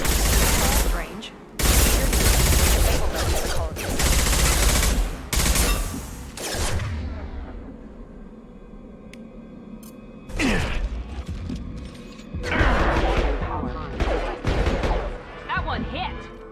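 Gunfire in the sci-fi shooter Mass Effect 2, with loud dense bursts of shots in the opening seconds, a quieter stretch of mechanical creaks and hums, then further volleys near the end.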